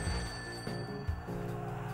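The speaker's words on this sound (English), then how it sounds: "So the phone's ringing." A telephone rings in Serial Cleaner video game, a bright electronic trill repeating in short bursts, loud and close over a faint game background.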